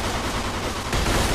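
Sustained automatic gunfire shooting up a bar in the Mafia 2 video game, a loud, continuous burst that grows heavier partway through, with no talking.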